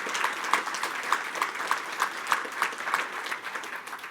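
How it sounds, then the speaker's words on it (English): Audience applause at a plenary session of an HIV prevention conference in England, a steady wash of many hands clapping from a crowd in a hall, sustained and fairly even with a slight pulsing rhythm. "Give him a round of applause."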